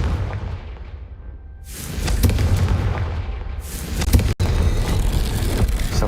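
Confringo fire spell from the Hogwarts Legacy video game, a booming blast that rises from a quiet lull into a broad roaring burst, followed by a second swell and a sharp crack, loud and full.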